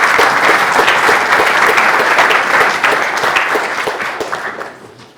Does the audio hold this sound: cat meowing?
no